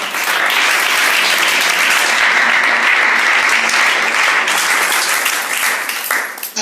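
A church congregation bursts into sustained applause, dense steady clapping filling the whole stretch at close range, with scattered voices mixed in and a slight fade at the end.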